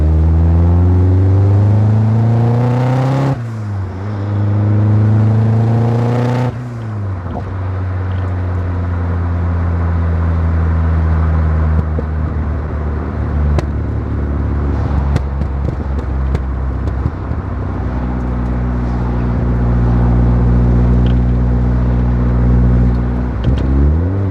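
Turbocharged Mazda MX-5 on a road test, engine loud and close as it revs up and shifts through gears, with a steady drone and boost rising between changes.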